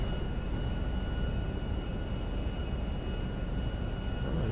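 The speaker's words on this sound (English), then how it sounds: "Very calm takeoff indeed from Los Santos there." Airliner jet engines roar steadily during a calm takeoff from Los Santos in a GTA video game, a continuous loud broadband rumble with no talking over it.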